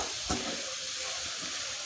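Kashmiri chili powder sizzles in hot oil while being stirred for a mango pickle: a steady bright hiss with a brief louder scrape of the spoon near the start.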